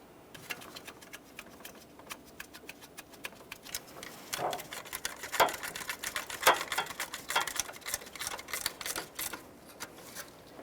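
Ratchet tightening alternator mounting bolts on a 2012-2015 Honda Civic 1.8L I4: quick runs of small metallic clicks, faint at first and then busier and louder, close up, with no talking.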